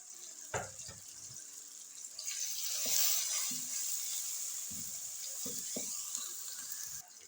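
Tomatoes frying in a pan, cooked down with turmeric and salt for a beef liver dish, give a steady sizzle with brief clinks of stirring, swelling louder midway and holding until the end.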